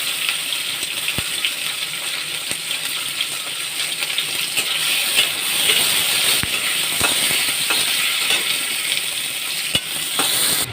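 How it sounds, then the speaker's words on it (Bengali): Potatoes and onions fry in oil in a wok with panch phoron spices and green chilli, a loud steady sizzle and hiss close up, marked by sharp clinks and scrapes of a utensil against the pan. "আলুগুলো দিয়ে দেবো ভাজার জন্য।"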